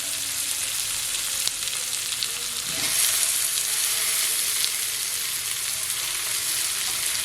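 Chopped tomato tossed into hot oil with onion and cumin in a village outdoor kitchen, giving a continuous close sizzle that swells briefly as it hits the pan, with light stirring and no voices.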